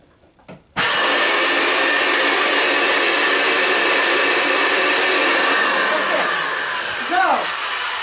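A homemade forge blower switches on abruptly with a strong, steady broadband whoosh that runs loud and constant for several seconds, briefly preceded by a few switch clicks and followed near the end by a faint voice.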